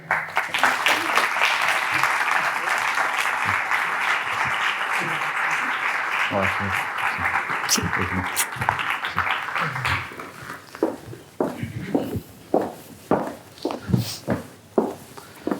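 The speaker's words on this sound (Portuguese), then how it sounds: "por favor, uma salva de palmas para Filipe Leão." Applause from a live audience at the Porto de Encontro talk in Porto, a dense steady clapping that holds for about ten seconds, then thins to scattered claps mixed with footsteps and voices as a guest takes the stage.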